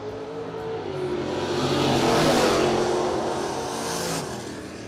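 A 5th gen Camaro launches and accelerates hard down a drag strip at a no-delay drag racing event, its engine roaring loud and swelling to a peak mid-run before easing slightly as the car pulls away.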